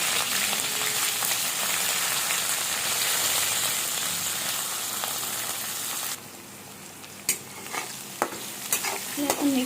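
Onion frying in a pan with mustard seeds, curry leaves and chili for upma, a loud continuous sizzle under steady stirring that drops in level partway through, followed by a few sharp spoon scrapes and clinks.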